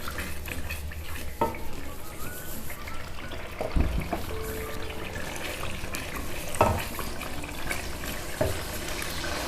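Onion with garlic-ginger paste fries in oil for a beef paya curry, giving a continuous sizzle with occasional stirring scrapes and clinks against the pot throughout.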